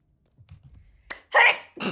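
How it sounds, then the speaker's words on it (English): A single sharp sneeze bursts out after soft rustling, followed by a second shorter sneeze or exhale, close and loud. "I need to sneeze again."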